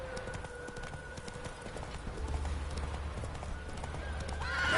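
Roach the horse gallops in The Witcher 3: Wild Hunt, her hooves beating a rapid, steady clip-clop over a low ambient game backdrop that swells toward the end.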